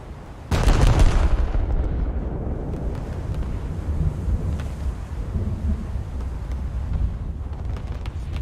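Naval 5-inch secondary guns in a video game fire a single heavy boom that opens sharply and rolls into a long, rumbling tail of distant echoing thunder, loud and alone.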